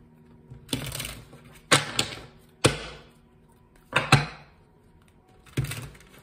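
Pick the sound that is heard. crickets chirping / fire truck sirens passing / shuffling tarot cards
shuffling tarot cards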